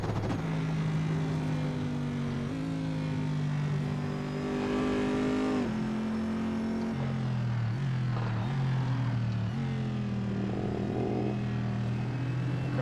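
A GTR race car's engine in a VR racing game drones loud and steady, with its pitch rising through each gear and dropping at every shift; there is no talk over it.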